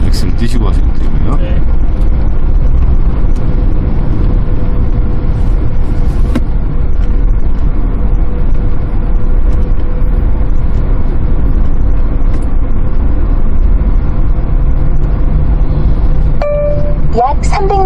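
A 2020 Kia Bongo 3 truck cruising at around 80 km/h, giving a steady, loud low rumble of engine and road noise that runs throughout, with a few brief faint tones near the end and people talking over it.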